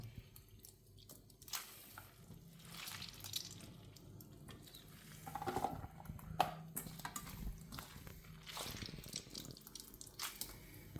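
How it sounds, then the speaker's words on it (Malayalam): Sliced onions are squeezed by hand to press out their water for onion vada, giving faint wet squelches and trickles in irregular bursts, close and quiet, with no voices. "നല്ലോണം പിഴിഞ്ഞ് മാറ്റിയെടുക്കാം വെള്ളം പിഴിഞ്ഞ് മാറ്റണം"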